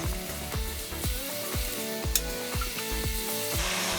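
Garlic added to softened onions frying in a pan gives a continuous close sizzle, overlaid by a steady knocking that repeats about every half second.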